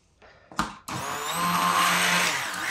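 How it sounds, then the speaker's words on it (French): An immersion blender whirs through a strawberry mixture for a white chocolate log cake, starting with a brief burst, then running as a steady, loud, close whine that holds to the end. "je vais le placer au mixeur plongeant."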